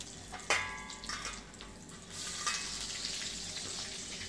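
Green chillies and crushed garlic hit hot oil with a sharp splash, then a steady crackling sizzle swells and settles, close by with no talking.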